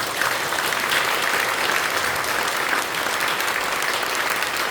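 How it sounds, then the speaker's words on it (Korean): Sustained applause from a church congregation at an ordination ceremony marking the 52nd anniversary service of Yeongdong Central Church of the Korea Evangelical Holiness Church, a dense, steady clapping that holds loud and even throughout. "박수해 주시기 바랍니다."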